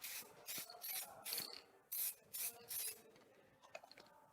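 A spray can lays a second light coat of DipYourCar dip on a car emblem in short, hissing bursts of about half a second each, close and fairly quiet, tapering into fainter rustles at the end.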